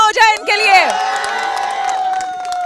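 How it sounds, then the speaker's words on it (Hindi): A live studio audience at a business talk show erupts in cheering, whoops and clapping, with loud shouts and excited voices rising over sustained applause. "तालियां हो जाए इनके लिए"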